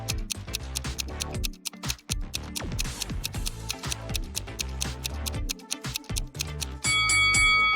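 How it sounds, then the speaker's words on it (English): A steady alarm clock ticks in quick repeated clicks, layered over dense busy background sound, with a brighter sustained ringing tone rising near the end. "The correct answer is an alarm clock."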